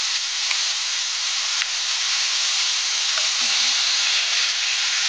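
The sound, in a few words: kandhuli fish frying in hot oil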